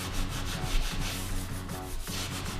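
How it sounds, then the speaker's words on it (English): Sheetrock walls are hand-sanded in a basement being built out, a steady close scratchy rubbing in repeated strokes with no one talking. "she was going along sanding the walls now"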